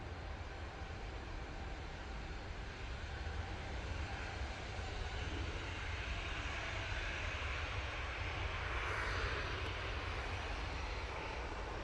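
A Jet2 Boeing 737 airliner at Manchester Airport produces a continuous broad engine roar, steady and fairly distant, filling the whole stretch without talk.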